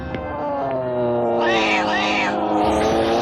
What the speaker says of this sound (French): Ce chat sauvage aurait pu t'arracher les yeux.